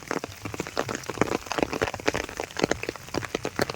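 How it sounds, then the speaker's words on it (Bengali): Rain falls in quick, irregular taps and patters, close by and moderately loud, with brief crackling bursts and no talking. "সকালে বিকেলে দুপুরে সময় অসময়ে বৃষ্টি হচ্ছেই"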